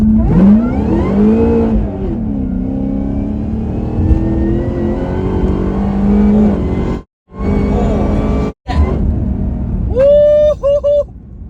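A supercharged Cadillac CTS-V making about 1100 wheel horsepower accelerates hard from a rolling start near 20 mph, its engine roaring and climbing in pitch with a supercharger whine, cut by brief gaps at gear changes, then rising again.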